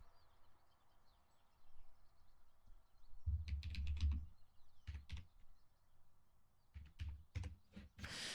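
Quick bursts of typing on a computer keyboard, close but fairly quiet, with short clusters of keystrokes separated by pauses in a still room.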